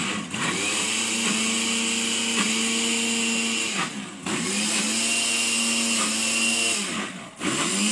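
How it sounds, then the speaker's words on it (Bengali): An electric blender grinds spices into a paste in a steady, loud motor whine, running continuously with two brief dips in pitch as the load shifts, close up with no talk. "দেখেন, এটা ব্লেন্ড হচ্ছে কিন্তু"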